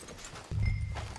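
Horses in the video game Red Dead Redemption 2 clop along loudly and close after a quiet start, with a whinny mixed in over a steady outdoor ambience.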